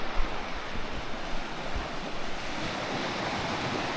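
Surf breaking on the coast at Aberlady Nature Reserve near high tide, a continuous broad wash of waves with low rumbles and wind buffeting the microphone.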